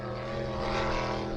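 A helicopter flies over an offshore powerboat race at Englewood Beach, giving a loud, continuous rotor-and-engine drone mixed with racing boat engine noise, with no talking.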